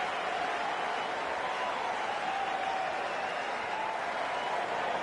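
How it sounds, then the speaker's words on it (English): Sustained crowd applause and cheering at a T20 cricket match between Pakistan and Australia, a steady, dense wash of clapping from the stands that holds at an even level throughout. "they'll receive a warm reception from the crowd"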